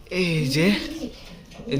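Cream Beauty and Siraji pigeons coo in low, throaty rolls close by, with someone talking over them.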